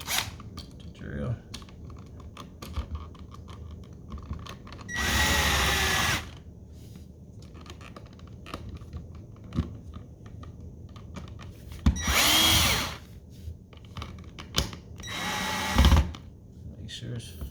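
A power drill runs in three loud bursts of roughly one to one and a half seconds each while an electrical faceplate and connection are reassembled, with quieter handling noises and clicks in between.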